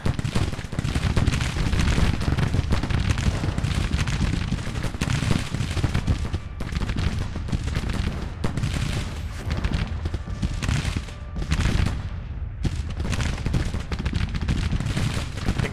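Sustained musket volleys and rolling rifle fire from Civil War infantry lines at the Battle of Alexandria in Grand Tactician, dense and continuous with overlapping cracks and booms, loud throughout with no talk.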